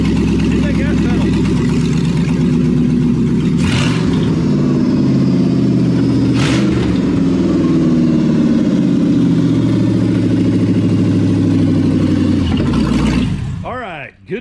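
A swapped-in V8 in a Jeep Comanche pickup revs loudly and close, with a sustained rough roar and surges of throttle, before cutting off abruptly at the end.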